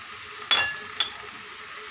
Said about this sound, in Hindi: अच्छी तरीके से हम भूनेंगे इसको